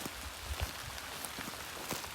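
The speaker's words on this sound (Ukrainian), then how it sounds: "Йде дощик." Rain patters in a forest in early January, a soft, steady hiss of drops on leaves and ground with scattered louder taps, faint and continuous with no voices.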